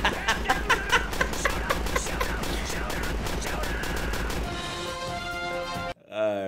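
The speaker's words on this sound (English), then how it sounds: "What's that? Gunshot! Shot fired!" Rapid gunfire bursts in a street scene, a run of sharp repeated shots close and loud over the first few seconds, followed by a steadier mechanical tone with voices, ending in a brief dropout.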